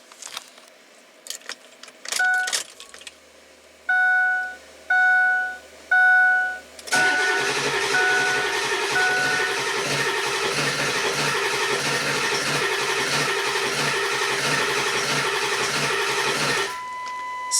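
A Ford Excursion with the 7.3 Powerstroke diesel, which has low fuel pressure, cranks for about ten seconds without firing. The steady, rhythmic starter churn follows several short chimes and a few key jingles, and it stops abruptly.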